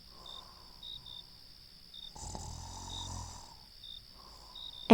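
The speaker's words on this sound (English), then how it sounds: "Then Bear began to snore, loudly." A sound effect of a bear snoring loudly in a bedtime story, one deep rumbling snore in the middle over a steady cricket chirping background.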